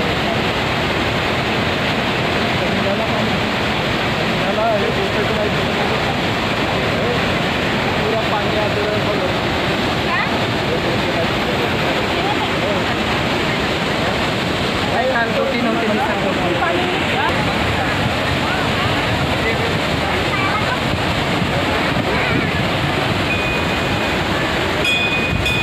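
Dhasgad waterfall near Rajgad in Deori taluka, Gondia district, at the source of the Gadhavi river, makes a loud, constant rushing roar of falling water that fills the whole stretch without a break.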